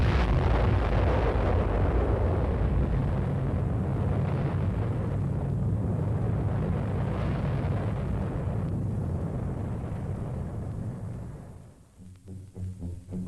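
Atomic bomb test explosion in the desert at dawn, heard as a sustained, deep, loud roar that rumbles on for more than ten seconds before fading into lower, uneven rumbles.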